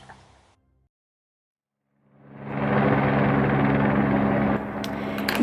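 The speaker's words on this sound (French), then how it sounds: "Il y a cet hélicoptère dans le ciel qui passe et repasse." A helicopter in a film, heard as a broad, steady engine and rotor rumble that swells in after a short silence and stays loud and continuous overhead.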